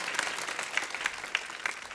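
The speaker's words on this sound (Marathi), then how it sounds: "टाळ्या वाजवा त्याच्या नावाने" Audience applause at a village kirtan in Girgaon fills the space with a soft, steady patter of many hands, fairly faint and distant, with a few sharper claps standing out.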